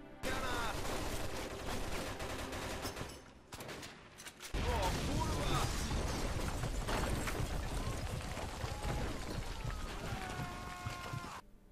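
Gunfire aimed at a window in the game Mafia II: dense, loud bursts of automatic shots ring out with clattering impacts, a brief lull, then heavier sustained firing and debris, with some game sound trailing at the end.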